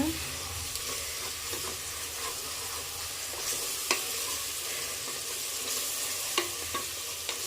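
Spiced gravy for mushroom biryani frying in a pan, a steady close sizzle and hiss with occasional scrapes and taps of a stirring spoon, no voices.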